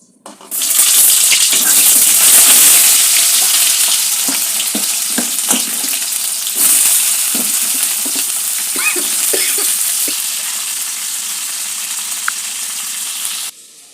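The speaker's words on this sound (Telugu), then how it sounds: "దొండకాయలన్నీ ఫ్రై అవుతున్నాయి కదండి" Ivy gourds fry in hot oil, a loud, close, rushing sizzle that starts abruptly and holds for over ten seconds, with occasional light knocks and pops before it cuts off, and no talking.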